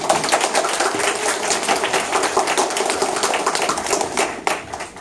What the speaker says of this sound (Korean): 재무 전문가에게 큰 박수로 해드리겠습니다